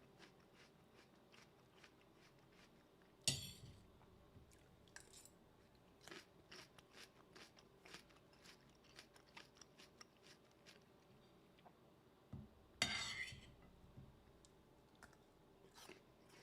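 Crunching food close to a microphone: scattered crisp chewing crackles and a few louder crunch bursts over quiet background, no speech.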